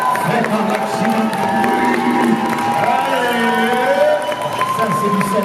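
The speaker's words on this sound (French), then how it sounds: "Vous allez, mesdames, messieurs, les applaudir, s'il vous plaît." Audience at a cosplay parade applauding and cheering the cosplayers, crowd noise and whoops over loud music with voices throughout.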